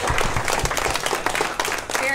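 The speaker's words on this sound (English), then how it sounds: "can we give them both another round of applause?" A seminar audience gives a brief round of applause for two mosquito experts after their presentation, busy clapping lasting about two seconds with some voices mixed in.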